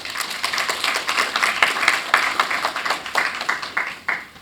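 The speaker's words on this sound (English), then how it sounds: "I think they deserve a big round of applause" Audience applause at a Taiwanese scholarship awards presentation in Saint Lucia, a steady patter of many hands clapping at moderate volume for several seconds, with dense overlapping claps and no talk.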